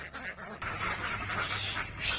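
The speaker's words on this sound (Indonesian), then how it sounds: "Salah satunya ternak bebek dan entok agar meningkatkan ketahanan pangan untuk masyarakat." Ducks and Muscovy ducks on a poultry farm quack and chatter in a continuous flock din, fairly close and steady throughout, with no talk over it.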